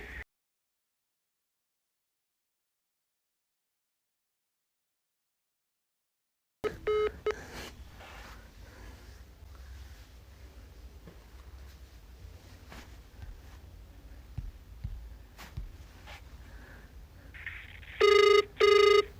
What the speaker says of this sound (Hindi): फिर मैंने इसको दोबारा फ़ोन किया है, देखिए ये कॉल उठाता है या नहीं उठाता